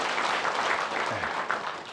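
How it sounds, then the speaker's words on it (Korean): Applause from an audience at a book concert for a priest's talk, a broad steady wash of clapping lasting about two seconds with a low murmur beneath it. "노부모님 모시고 사는 분들 용기 내시라고 박수 한번 쳐드릴까요,"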